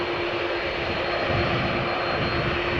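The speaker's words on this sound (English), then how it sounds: "The other 787-10 Dreamliner that has arrived from Las Vegas," A Boeing 787-10 Dreamliner arriving at Amsterdam Schiphol from Las Vegas, heard as a steady, moderately loud jet engine roar with a faint tonal whine running through the short stretch.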